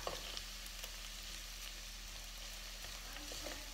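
Onions frying in a pan for Ezogelin lentil soup, a steady soft sizzle with faint crackles throughout, no voices.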